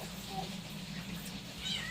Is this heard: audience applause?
no